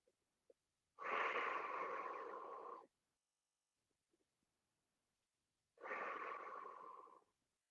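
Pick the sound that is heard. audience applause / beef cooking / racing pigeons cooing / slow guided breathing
slow guided breathing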